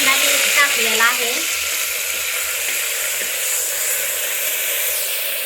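Ground onion sizzles loudly in a pan for green butter chicken curry, a dense steady hiss of frying. A brief voice comes early, then the sizzle continues alone at constant strength.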